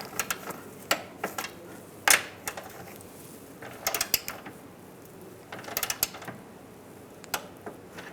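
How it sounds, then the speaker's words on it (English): Torque wrench tightening the rear engine mount bolts on a 1998-2010 Volkswagen Beetle, producing scattered short ratcheting clicks in small clusters, close but fairly quiet. "Now we're going to torque these two bolts to 15 foot-pounds."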